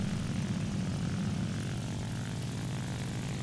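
Propeller aircraft engines droning steadily in a multiplayer air combat video game, a dense continuous low rumble of several planes holding at a constant level throughout.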